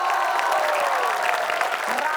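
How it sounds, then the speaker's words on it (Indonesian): Studio audience at an Indonesian comedy show applauding, a dense steady wash of clapping with a few whoops over the full stretch. "Boleh kasih tepuk tangan?"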